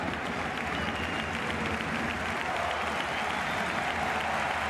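Basketball crowd applauding and cheering after a blocked shot at a Basketball Champions League game between San Pablo Burgos and Rasta Vechta, a steady, dense wash of clapping filling the arena throughout.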